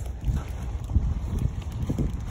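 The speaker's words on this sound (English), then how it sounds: "I don't know if you can hear the wind, it's windy." Wind on a foggy Appalachian Trail mountain path buffets the microphone with a steady, low, rumbling roar, fluttering in gusts and heard alone.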